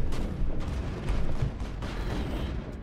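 Turrets in Mass Effect 1 fire dense, continuous gunfire, with heavy rattling shots and booming blasts that fill the whole moment at loud volume.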